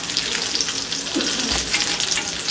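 Fish fillets frying in hot oil for a fish fry, giving a steady, close, dense sizzle and crackle with no pauses and no voices.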